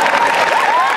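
A studio audience responds with a dense wash of clapping and cheering, steady and close throughout, with a voice rising over the crowd noise.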